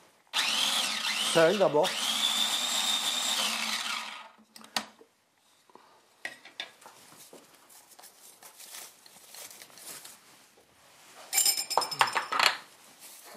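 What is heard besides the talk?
blender mixing citrus and butter filling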